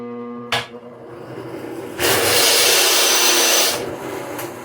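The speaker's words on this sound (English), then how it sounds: "something doesn't sound right when I try to drill this." Power drill boring into a mounting for an anvil, running with an off, strained sound: a short burst, then a loud steady whine and grind for almost two seconds before easing off, close up.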